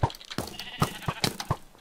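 Sheep in the Minecraft UHC video game bleat repeatedly in short, clipped calls spaced through the moment, mixed with other game sound effects, moderately loud and without speech.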